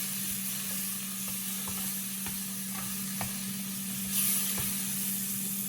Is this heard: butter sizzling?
yes